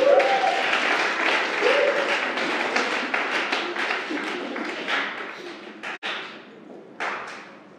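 A congregation at a sermon applauds in praise of Jesus, dense clapping that fills the room and gradually thins into a few scattered claps and thuds.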